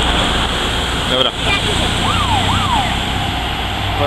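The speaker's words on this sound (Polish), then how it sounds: "A jeszcze ostatni wóz strażacki." A fire engine siren wails in rising and falling sweeps as the truck passes at the end of a military vehicle column, loud over constant engine and road roar and crowd noise.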